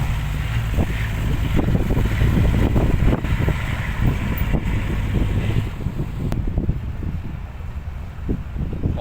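Steady roaring wind buffets the microphone throughout, with a continuous low rumble underneath and no voices.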